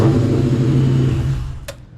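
BMW E46 car engine idling and running steadily, loud and close, then fading away near the end with a brief high click.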